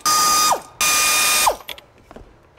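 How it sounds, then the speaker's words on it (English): An air ratchet spins out bolts from a Chevrolet Silverado or GMC Sierra center console in two loud, close bursts of high whirring, each ending with a falling pitch, followed by light clinks. "I love this air ratchet."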